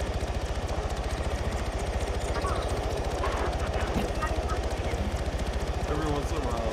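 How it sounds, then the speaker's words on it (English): A Black Hawk helicopter in the video game Arma 3 gives off a loud, steady rotor thump with evenly pulsing beats throughout, and several players talk over radio chatter on top of it. "engage this Blackhawk."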